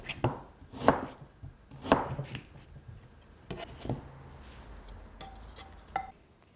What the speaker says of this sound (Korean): 배는요, 이렇게 납작하게 이렇게 썰어 넣으면 됩니다.